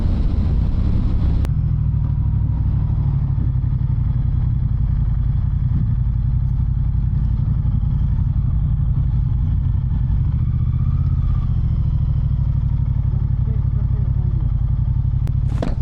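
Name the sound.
motorcycle engine running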